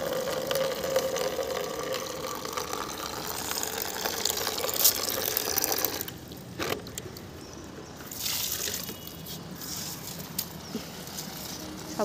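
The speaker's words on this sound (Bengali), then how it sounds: "কলটা একটু খুলে দিই, জলটা ভর্তি হোক" Water runs from an opened garden tap, filling a container for watering plants with a steady, hissing rush that shifts in tone midway, loud and continuous near the tap.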